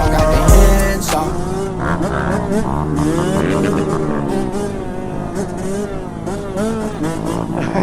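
A mini bike engine revs hard and buzzes like a two-stroke during a race, a loud, wavering whine rising and falling throughout, with a sharp burst near the start and voices faintly underneath.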